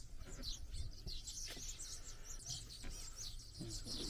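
Birds chirp constantly beside a canal on a side road in the Khao Sam Roi Yot area of Prachuap province, Thailand: repeated high twittering calls, moderately near, over a faint outdoor rumble.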